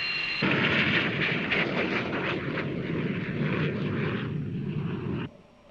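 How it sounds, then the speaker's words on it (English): F-14 Tomcat jet fighter roaring through air combat maneuvering against a T-38, a loud sustained engine rumble for about five seconds before cutting off sharply. "The F 14 versus the T 38 is a lesson in defensive maneuvering"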